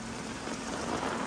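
Heavy rain falls in a dense, steady hiss, continuous and even throughout the short stretch.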